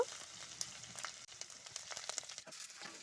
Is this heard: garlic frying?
yes